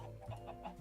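Chickens cluck softly in the Minecraft Sky Factory 3 video game, a few faint short clucks repeating over a steady low background hum.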